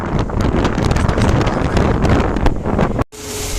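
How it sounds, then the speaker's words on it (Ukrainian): Loud, gusty wind buffets the microphone with a heavy roar in an open field during a late soybean harvest, then cuts off abruptly near the end. "Дуже вітер"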